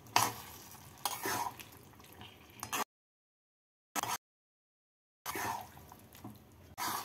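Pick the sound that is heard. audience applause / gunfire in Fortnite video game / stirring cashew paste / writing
stirring cashew paste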